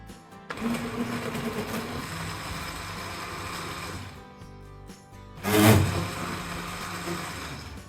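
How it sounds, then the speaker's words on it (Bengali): A blender whirs steadily as it purées watermelon for juice, the motor droning at one level, then briefly cutting out and surging louder before settling back into a continuous hum. "ব্লান্ডারে ভালো করে ব্লেন্ড করে নিব"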